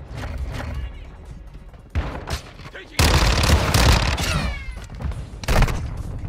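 Heavy gunfire in Call of Duty Modern Warfare 2 multiplayer: scattered shots give way to loud, sustained rapid bursts at close range, with voices talking over the shooting.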